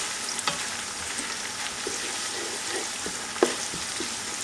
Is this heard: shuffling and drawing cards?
no